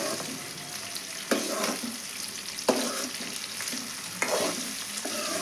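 Chopped onions and cabbage sauté in oil for a cabbage and chana dal curry, producing a close, steady sizzle with a few sharp spatula scrapes at intervals and no talking.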